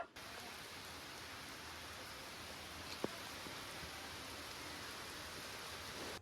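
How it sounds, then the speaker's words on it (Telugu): Heavy rain pours down outside a home as a steady, even hiss that lasts the whole stretch, with one faint knock partway through and no voices. "బయట అయితే ఫుల్ గా వర్షం పడుతుంది"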